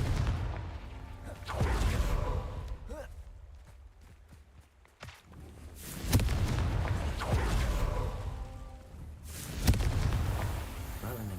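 Confringo blasting spell erupting in Hogwarts Legacy, heard as a few loud booming bursts with crackling debris, the first near the start and heavier ones midway and toward the end, over continuous game ambience.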